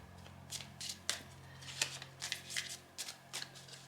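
Oracle cards being laid out on a table, soft papery snaps and slides in an irregular series of about a dozen close, quiet strokes over a faint low hum.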